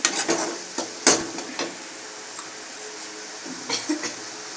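Soft sizzling of brinjal sambar ingredients frying in a pan, with a few sharp clinks and scrapes of a utensil near the start and again toward the end.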